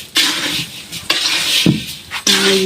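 Rice frying in a pot for biryani, with loud close sizzling broken by stirring bursts and the scrape of a utensil against the pot, in several surges and with no talking.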